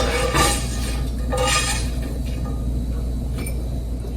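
Cooked bacon lifted out of a pan, with metal utensils clinking and scraping against the cookware in a few close, distinct taps over a low background hum.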